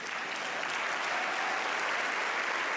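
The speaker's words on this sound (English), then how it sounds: "Why don't we just give a round of applause for everybody who's here?" Audience applause for contestants at the 2018 Oregon Sports Awards, a steady dense wash of clapping hands filling the room throughout, moderately loud and unbroken.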